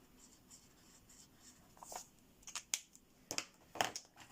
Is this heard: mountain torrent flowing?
no